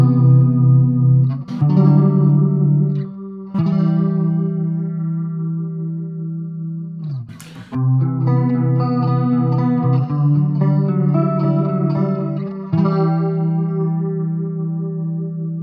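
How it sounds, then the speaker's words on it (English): Electric guitar played through the chorus flange effect of a Line 6 Spider 15 Classic amp, loud sustained chords and notes swirling with a thick, wavering modulated tone, continuous and alone with no voices. "So, chorus flange."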